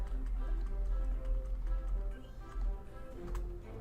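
Light computer mouse clicks come at irregular intervals while someone plays Kerbal Space Program, set against a steady low hum and faint tonal game sounds.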